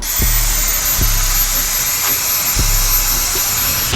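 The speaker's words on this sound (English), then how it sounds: "we just gonna blow dry that as we combing or brushing down until it's completely dry" A hair dryer blow-drying coily, curly hair, producing a loud, steady whooshing hiss with a high whine, broken by periodic low thumps from the brush or comb.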